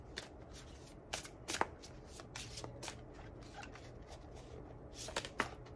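Tarot cards shuffled and drawn by hand, a quiet close run of riffling flutters and soft snaps in uneven bursts, with no talking.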